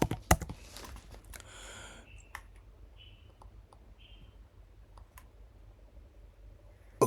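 Quick keystrokes and clicks on a computer keyboard, a short burst of typing followed by a few sparse, quiet clicks against a faint background hiss.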